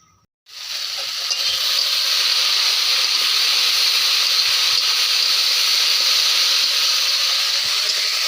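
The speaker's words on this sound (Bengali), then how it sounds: "এখানে উনুনে ভেন্ডি ভাজা হচ্ছে" Okra fries in a pan on a clay stove, breaking into a loud, continuous close-up sizzle and hiss after a short quiet start that holds steady to the end.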